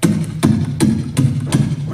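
A voice imitates a kick drum in beatbox style, producing five evenly spaced, punchy low thumps close to the microphone, with no other sounds or speech.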